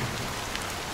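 Steady rain falls in the Honkai Star Rail video game, a dense, even hiss of drops with a small patter near the end, continuous and moderately loud with no voices.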